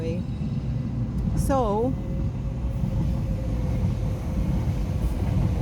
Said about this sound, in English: So here is coming another train.